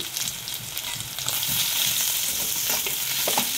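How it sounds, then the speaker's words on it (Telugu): Moong dal khichdi mixture being stirred in a hot pan gives a steady sizzle with scraping, stirring strokes throughout, close and fairly loud with no voices. "వేసుకొని అంతా కలుపుకోవాలి."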